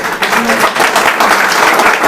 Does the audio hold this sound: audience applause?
yes